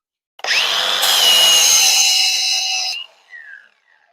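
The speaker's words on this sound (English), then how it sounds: "Now I'm going to switch over and check out the 120 grit. So let's see how fast the 120 grit removes some paint." Angle grinder with a 120 grit flap disc strips paint in one loud, steady burst of high whining abrasion lasting about two and a half seconds, then spins down with a short trailing whir.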